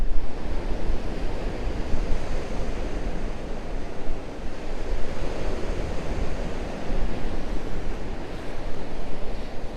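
Sea waves break continuously at Crantock Beach in Cornwall, a loud, steady roar of surf with wind rushing across the microphone throughout and no voices.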